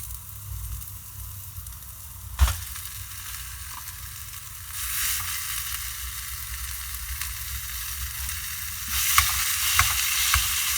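Ground meat goes into a hot pan over vegetables, cooking on a makeshift tailgate setup in a parking lot; a sharp thump, then a rising hiss and sizzle that grows louder with scattered crackles.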